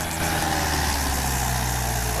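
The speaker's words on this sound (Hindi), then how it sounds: "नहीं तो ट्रैक्टर अपनी औकात से ज़्यादा जोर मार रहा।" A Mahindra 575 tractor engine labours in sandy soil, a steady loud diesel drone with a deep rumbling tone held throughout, no talking.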